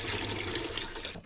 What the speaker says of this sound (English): I think I gotta dump a little more water in there.